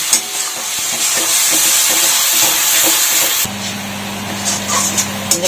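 Spices with Kashmiri red chilli powder being stirred and fried in a pan for a loitka shutki dried fish dish, giving a steady close sizzle and scraping, with a low hum joining in partway through.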